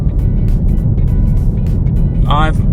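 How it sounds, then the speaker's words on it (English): A BYD Atto 3 rumbles low and steady from inside the cabin while driven without its key, with road noise constant underneath and a brief tonal squeal near the end. "The car is still going without a key."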